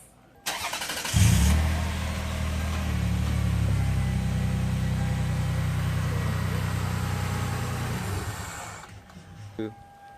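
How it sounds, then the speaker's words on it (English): A car engine cranks and fires, then settles into a steady, close idle hum for several seconds before shutting off, with a faint voice briefly in the background. "we're going to turn on the car"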